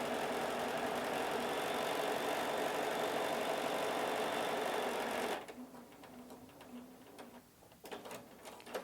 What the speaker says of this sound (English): it will go ahead and stitch that same buttonhole that you just recorded on the fabric over and over and over